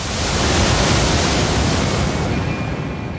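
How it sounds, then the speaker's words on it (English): An enemy in Elden Ring gives off a constant loud rushing roar like a waterfall, a dense wash of noise that eases off near the end. "When you're not looking at him, it sounds like a beautiful waterfall."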